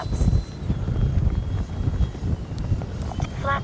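A Freewing 90mm F-22 RC jet flies past outdoors, its electric ducted-fan engine giving a steady, loud rushing whine with wind buffeting, fairly close and unbroken, with no speech.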